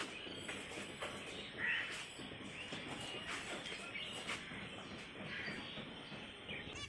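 Crows caw repeatedly at a moderate distance outdoors, with harsh calls rising over a steady background hiss. No one speaks.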